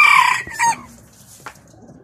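Mille Fleur bantam chickens and a rooster, white-spotted black plumage, giving a loud close crow-like call that breaks off, followed by a few softer clucks and a sharp short cry.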